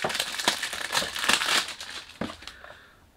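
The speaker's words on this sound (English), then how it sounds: "Sorry about the noise when you do unboxing" Packaging from a perfume box crinkles and crushes loudly up close in dense, uneven bursts of rustling that fade near the end.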